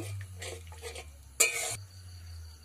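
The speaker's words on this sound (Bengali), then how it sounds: "দুধটা দিয়ে আমি ভালো করে একটু নেড়ে নেব" Spoon stirring coconut milk into spiced masala in a cooking pan, soft swishing strokes with one sharp metallic clink midway, quiet and close over a low hum.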